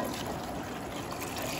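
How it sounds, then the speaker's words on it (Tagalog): Water pours steadily into a cooking pot for broth with milkfish head and shrimp, a continuous close rushing splash lasting under two seconds, with no talking. "And then, lalagyan na natin ng tubig."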